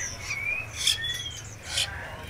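Caged wild-caught songbirds from Gia Lai at a bird shop give several thin, high chirps and whistled calls at irregular moments over a low, steady background hum.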